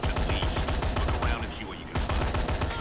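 Rapid gunfire from a weapon in the video game Dead Rising 3, a dense burst of loud repeated shots with a short pause before firing resumes.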